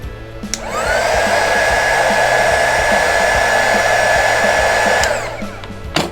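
A hair dryer or heat gun whooshes on, blowing hot air to soften a hard spot on an LED lamp repair, steady for about five seconds at close range, then winds down, with faint tapping underneath.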